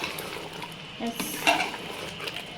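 A spoon scrapes and clinks against a pan as chicken is stirred with coriander-cumin powder, with a few sharp metallic taps over a soft sizzle.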